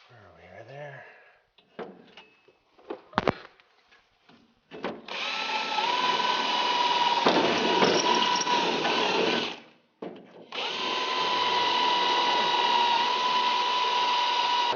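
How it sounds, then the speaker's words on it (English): A power drill bores holes for steel rivets during a Van Amburg double pass cooler install on a VK1000 truck, running in two long steady bursts after a few short clanks and handling noises. "now it's just time to drill a lot of holes"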